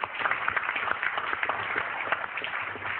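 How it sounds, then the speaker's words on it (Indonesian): An audience claps in applause for a police chief, a steady dense patter of hands that stays fairly even throughout, with no clear voices standing out. "saya kira kita perlu tepuk tangan kepada Kapolsek"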